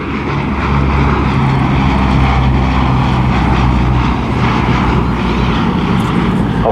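A Bristol Blenheim, a twin-engine piston bomber, roars past at the Southport airshow, its loud, sustained engine and propeller drone filling the air close by at a steady, powerful level.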